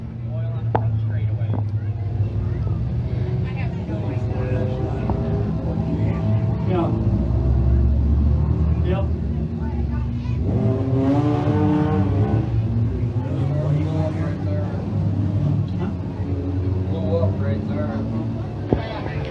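Dirt track race cars roar down the front straightaway at a Thundercar feature event, a continuous loud engine rumble with rising and falling revs beneath steady race commentary.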